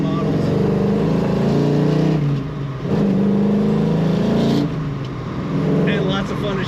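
A 1974 Plymouth 'Cuda's exhaust while driving, a steady loud engine drone with rising and falling tones as gears are shifted, under someone talking throughout.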